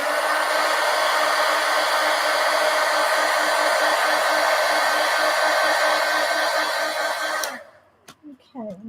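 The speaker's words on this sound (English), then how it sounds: "let me hit that with the heat gun" A heat gun blows hot air in a loud, steady, close roar that runs for several seconds and then cuts off abruptly, leaving faint clicks and light handling noises.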